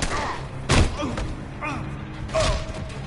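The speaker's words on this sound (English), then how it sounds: "This is a fast pistol." Rapid pistol shots in a video game, a few sharp loud bangs spaced apart, with voices talking over the gameplay.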